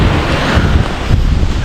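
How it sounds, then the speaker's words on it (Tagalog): Strong wind buffets the microphone at a beach, loud and continuous, with the rush of surf blended underneath. "At yung beach pala dito, oh, may beach dito."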